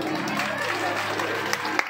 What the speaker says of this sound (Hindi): इनके लिए सबसे ज्यादा तालियां लगाइए